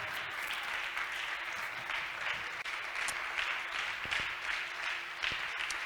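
A church congregation at a worship service breaks into sustained applause, a dense steady clatter of many hands clapping throughout, fairly distant and even in level.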